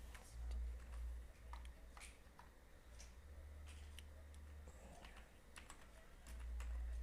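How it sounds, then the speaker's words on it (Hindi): Computer keyboard typing as a sheet name is entered in Excel 2016, scattered clicks and short bursts of keystrokes over a low steady hum, no voices. "उसको नाम टाइप कर दें"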